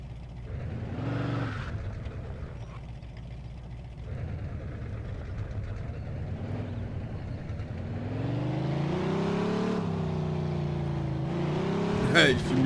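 Car engine in the video game Mafia 2, revving and shifting as the car drives, rising in pitch toward the end. Someone talks over it.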